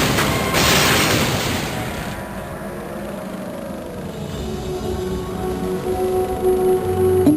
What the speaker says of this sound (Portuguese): O King George lançava balas de 14 polegadas.